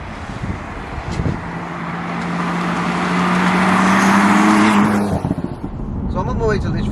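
A Stage 1 BMW M4 drives on the road, its engine note rising into a steady, loud drone from inside the car before easing off, with a voice speaking over it.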